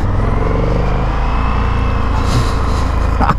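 An Indian FTR1200 motorcycle on the move, its engine note a steady loud drone with a rising rev toward the end, heard up close and continuous throughout.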